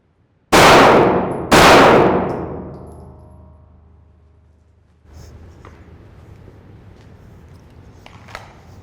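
Two loud, sharp gunshots a second apart during a standing-to-kneeling handgun drill, each ringing out in a long decaying echo, followed by quiet outdoor ambience and faint movement.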